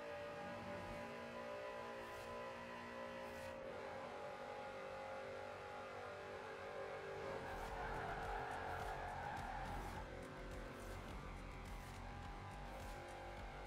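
Engine of a car in a racing video game, droning steadily and echoing as it drives through a tunnel, with a brighter roaring swell partway through and no talk.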